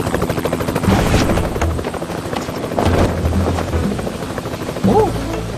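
A helicopter hovers at a drop point to lower cargo, its rotor roar loud and steady throughout while voices speak over it.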